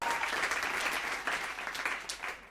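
An awards-show audience gives loud applause for the Hyundai Alcazar, a thick sustained burst of clapping that slowly thins toward the end.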